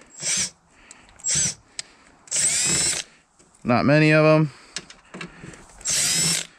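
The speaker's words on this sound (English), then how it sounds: "get your drill or hand drill and go ahead, unscrew all these screws" A cordless drill unscrewing screws from an air conditioning unit whirs in several short bursts, one rising in pitch as it spins up, with brief talk between runs.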